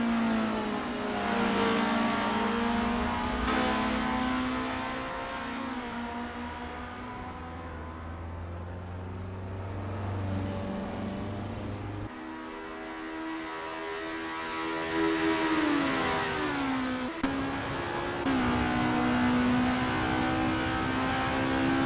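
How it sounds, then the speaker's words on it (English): Race car engines from an Assetto Corsa multiplayer race at Bridgehampton wail and rise in pitch through gear changes, with sustained high revving, shifts and passing cars at a steady, loud level. "The roaring engines are echoing Renault 99's battle cry."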